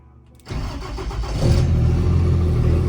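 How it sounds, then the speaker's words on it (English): A 1500 horsepower car engine cranks and fires after a brief quiet moment, then settles into a loud, rough, deep idle that swells slightly after a second, close by. "now we are just going ahead and starting it up"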